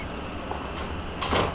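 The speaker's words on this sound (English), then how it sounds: "We will manually close the doors" Metropolitan Line train doors sliding shut in Train Simulator 2020, with a short hiss followed by a louder mechanical slide and thump near the end, heard up close with no talking.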